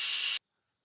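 Instant Pot pressure cooker venting on quick release, a loud, steady, broadband steam hiss that cuts off abruptly after well under half a second, leaving silence.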